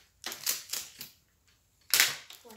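Adhesive tape peels slowly off a dot colouring book page in short crackling rips, several quick strips in a row, then a louder tear after a brief pause, close and crisp.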